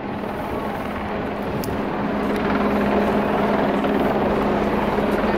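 Helicopter flying over a Barcelona street protest at night, a loud, steady rotor drone with the thump of the blades over crowd murmur, with no clear talk.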